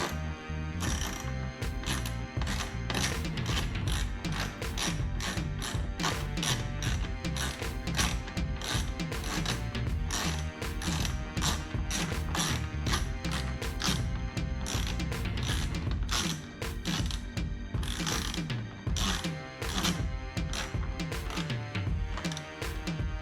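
A ratcheting tool tightens the screws on a replacement door handle, giving a quick, steady run of close mechanical clicks that repeats with only brief pauses.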